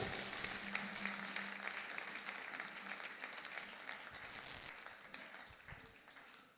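A church congregation at a thanksgiving worship service breaking into applause, a dense, sustained wash of many hands clapping in a room that slowly fades toward the end.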